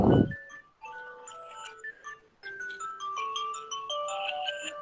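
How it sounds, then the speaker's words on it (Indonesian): A telephone ringtone plays a melodic electronic tune in stepped tones for several seconds, alone and fairly faint, with no one talking. "Bu Teti telepon."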